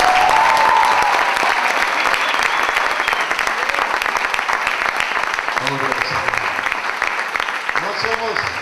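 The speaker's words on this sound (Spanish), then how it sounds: "denle un aplauso a los de azul." Church congregation at a May 2011 celebration service applauds the group in blue, sustained dense clapping filling the room at steady loudness, with a few voices and cheers rising near the end.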